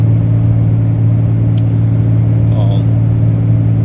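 A Ram 3500 with the 6.7 Cummins diesel drones steadily while hauling a 28,000-pound gross load uphill, a constant low rumble heard from inside the cab, loud and unbroken.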